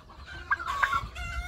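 A female turkey calls nearby on a farm in the UAE, a few short bursty clucking calls over a low rumbling background, with no talking.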